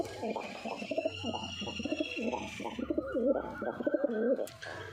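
A pigeon coos repeatedly up close in a soft, rolling rhythm, with a brief chirp near the end.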